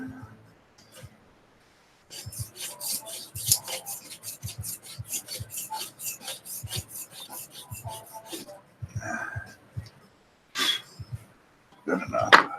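A hand scraper rasps across a 3D-printed part in a run of quick, close strokes, with a short pause and a couple of louder scrapes near the end.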